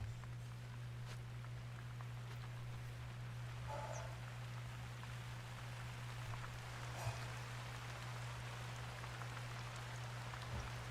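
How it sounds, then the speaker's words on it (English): Steady rain falls in the hunting video game The Hunter: Call of the Wild, a soft continuous hiss under a constant low hum, with a few faint bird-like chirps and small knocks; no one speaks. "It's starting to rain."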